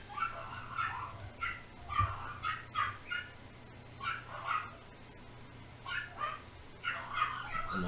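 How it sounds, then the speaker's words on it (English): Dogs bark and whimper in repeated short bursts at a moderate distance, over a steady low hum. "Sorry for the dogs in the background."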